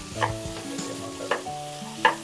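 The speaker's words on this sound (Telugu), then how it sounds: "వీటన్నింటినీ మంచిగా కలుపుకోవాలి ఫ్రై అయ్యేంత వరకు ఉండాలి" Chopped capsicum and cabbage stir-fried in a pan, a light sizzle under a few sharp spatula scrapes and taps spaced about a second apart, close and fairly quiet, no voices.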